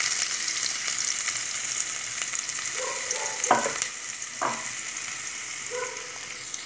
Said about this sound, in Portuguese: Deixar ela ficar uma fritada agora